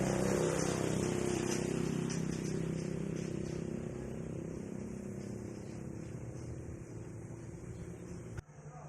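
A matte black 2019 Suzuki Smash 110 motorcycle idles with a steady low engine rumble close by, holding even before dropping off abruptly near the end.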